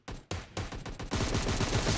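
Gunfire in PUBG Mobile Lite on the Ruins map: a few loud single shots, then a rapid automatic burst that rattles on continuously, close and sharp, with no talk.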